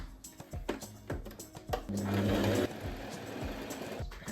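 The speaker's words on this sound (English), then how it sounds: "And now I will sew along this line that we just pinned with a straight stitch" A sewing machine runs a straight stitch along a pinned seam on scrunchie fabric, with a close, steady mechanical whir and short bursts of needle clatter that stop and start.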